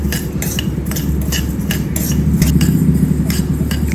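Toor dal being stirred while it fries dry in a pan over a low flame, a steady run of scraping and light clinking from the utensil against the metal, close and fairly loud, with no talk.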